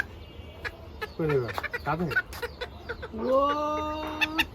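Baby Serama chicks call with a few sliding peeps followed by a longer, steadier cry, close and fairly clear over low background murmur.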